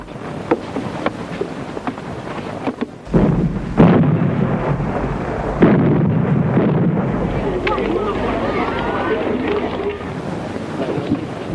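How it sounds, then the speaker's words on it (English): A high-yield nuclear weapon explodes in a 1960s British civil defence film: a sudden deep boom breaks in, and a heavy, loud rolling rumble follows and lingers for several seconds. "Let us have a look at the situation after the explosion of a high-yield nuclear weapon."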